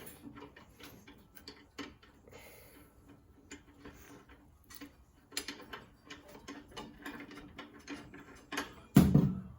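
A bolt being loosened on a chop saw blade, heard as close, scattered metallic clicks and ticks from the tool and bolt, with a louder clunk near the end.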